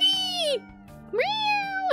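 A cat meows in the video game OneShot: two clear, drawn-out meows with a brief gap between them, loud and close over a steady low musical drone.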